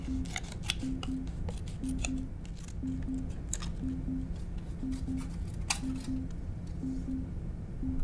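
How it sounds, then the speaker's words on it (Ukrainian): Scissors snipping through material in a steady rhythmic series of faint close cuts over a constant low hum, with a few sharper clicks. "Думаю, що мені потрібно це зробити ножицями."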